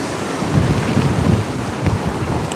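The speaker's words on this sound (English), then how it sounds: "I knew there was a storm coming" Strong wind buffeting a microphone outdoors beside a slaughterhouse as a storm approaches, a continuous loud roar with deep low rumbles rising and falling and no voices.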